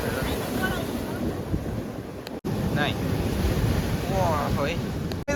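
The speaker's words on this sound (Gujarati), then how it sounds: "અત્યારે દરિયો ફૂલ તોફાન ઉધાન થઈ ગયો" A stormy, rough sea churns and crashes in a continuous loud roar of surf and gusting wind buffeting the microphone, with faint voices briefly under the noise.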